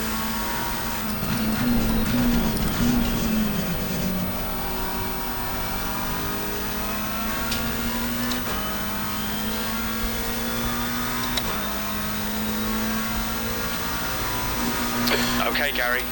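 A McLaren 720S GT3 race car engine drones at Monza in Assetto Corsa Competizione, a loud, sustained tone shifting in pitch through gear changes, steady throughout with no talk.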